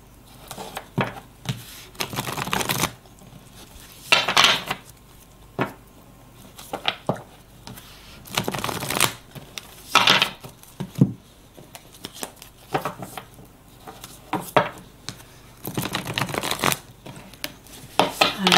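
Tarot cards are shuffled for a personal card draw, producing irregular bursts of close, papery rustling and slapping, some longer and some brief, separated by short pauses in a quiet room.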